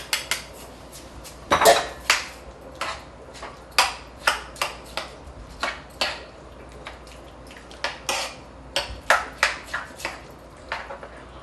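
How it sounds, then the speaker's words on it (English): A spoon stirring rinsed, uncooked rice in a pot on the stove, giving an irregular series of light metallic clinks and scrapes against the pot at close range, with no talking. "now we're going to stir in the uncooked rice that we rinsed earlier"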